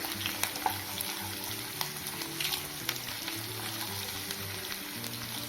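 Green chilli, ginger and dried red chillies fry in hot oil in a pan while cooking seasoning for rice, giving a steady crackling sizzle with scattered pops and light stirring scrapes and no talking.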